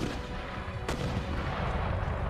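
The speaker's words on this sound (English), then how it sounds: "Our shrapnel shot's doing some real good damage" Mortar and shrapnel artillery fire on an Empire: Total War battlefield, a dense rumbling barrage with one sharp crack near the middle, heard at a distance under steady battle noise.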